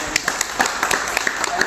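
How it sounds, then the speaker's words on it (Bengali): A group of motorcycle riders gathered for a TVS ride from Dankuni to Orgram Forest claps to welcome newcomers: brisk, uneven hand claps, fairly loud and close, with voices mixed in. "সবাই একটু জোরে হাততালি নতুনদের জন্য।"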